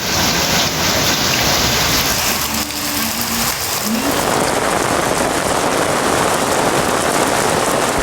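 Heavy evening rain with thunder and lightning in Tamil Nadu: a loud, steady roar of rain hitting surfaces, dense and unbroken throughout, with no distinct thunderclap standing out.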